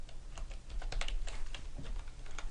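Rapid clicking of keys as someone types on a computer keyboard, close and steady with uneven bursts of keystrokes, no talking.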